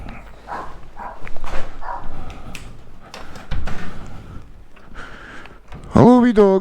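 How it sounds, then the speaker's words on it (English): A small dog barks in a few sharp, loud yips near the end, after a stretch of someone talking affectionately to the dogs. "Who's a wee barky dog?"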